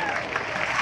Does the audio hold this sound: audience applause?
yes